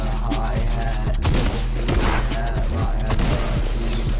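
Rapid bursts of gunfire from a Fortnite Creative match keep up a dense, loud barrage with thuds mixed in, while excited voices shout over the action.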